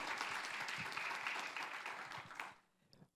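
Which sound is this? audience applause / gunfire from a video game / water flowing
audience applause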